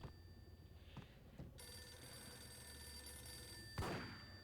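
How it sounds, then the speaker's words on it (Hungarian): A telephone rings in the Max Payne video game, a steady electronic ring with a sharp burst near the end over low background ambience. "Csörög a fón."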